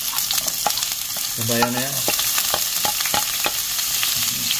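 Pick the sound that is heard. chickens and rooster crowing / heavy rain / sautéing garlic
sautéing garlic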